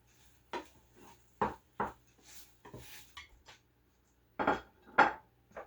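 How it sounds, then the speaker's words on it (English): Spoon scraping and clanking against a pan while egg is stirred into pork fried rice, with several sharp metallic knocks and scrapes in irregular bursts, close and moderately loud, no talking. "I'm going to start stirring the egg into the rice"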